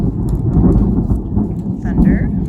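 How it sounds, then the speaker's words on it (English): A deep, continuous rumble of thunder rolls through a storm, with steady rain hissing underneath, loud and sustained across the whole stretch. "Thunder as well."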